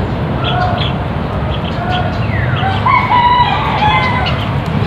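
Hens clucking in a laying area during an egg harvest, with several birds cackling and calling continuously at close to moderate distance over a busy, noisy background.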